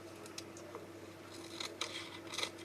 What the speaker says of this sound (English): So I'm going to cut a piece of this off.